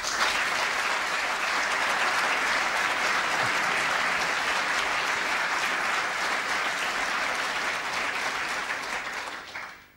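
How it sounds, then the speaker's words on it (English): An audience at an award ceremony applauds loudly and continuously, a dense wash of clapping that holds steady before trailing off at the end. "they should have a very big applause"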